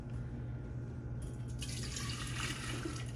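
Homemade vegetable broth pours into a container in the kitchen, a close liquid stream that starts after a brief pause and keeps running with light splashing and trickling, with no voices.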